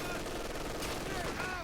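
Maxim machine guns rattling in Company of Heroes 2, sustained rapid bursts of in-game gunfire under a commentator's voice, dense and continuous for the whole short stretch.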